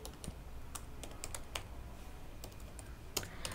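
Computer keyboard typing as code is written for a PHP and MySQL e-commerce site: irregular, close, crisp key clicks in scattered bursts over a steady low room hum, with no voice.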